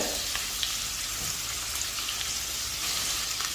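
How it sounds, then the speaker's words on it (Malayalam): Crushed ginger and garlic fry in a pan for crab masala. The sizzle is steady, close and crackling, with faint stirring taps and no talking. "അതിനുശേഷം ഇഞ്ചിയും വെളുത്തുള്ളിയും ചതച്ചത്, ഒരു ചെറിയ സൈസ് ഇഞ്ചിയും അതിലൊരു 3-4 അല്ലി വെളുത്തുള്ളിയാണ് എടുത്തേക്കുന്നത്."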